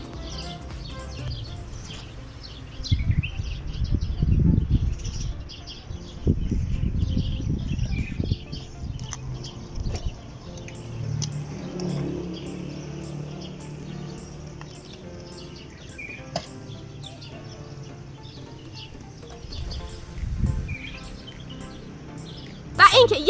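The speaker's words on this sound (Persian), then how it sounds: "با صدای پرنده ها." Birds chirp and tweet lightly in a palm grove among orange blossoms in Jahrom, Iran. The calls are scattered and faint over low background rumble, with some muffled activity nearby.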